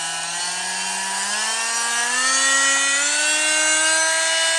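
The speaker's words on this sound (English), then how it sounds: "Let's change the speed." A Guild PMF300GH.1 oscillating multitool runs unloaded as its speed is raised, its loud, steady buzzing whine climbing gradually in pitch, with no voice heard.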